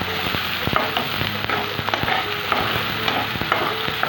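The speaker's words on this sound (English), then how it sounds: "Roast it for some time." Wet masala of tomato, peanuts, red chilli, ginger and garlic sizzling and being stirred in a pan, a close, steady fry with repeated scraping stirs and no talk.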